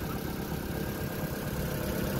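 A 2015 Chrysler 200's 2.4-liter four-cylinder engine idles with the hood open, giving a steady, even mid-to-low hum that stays constant at close range, with no talking.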